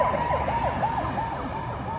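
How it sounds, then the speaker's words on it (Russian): An ambulance siren wails in a street in Nha Trang, Vietnam, its rising and falling tone cycling steadily and loud against constant traffic noise as the vehicle passes. "Скорая поехала."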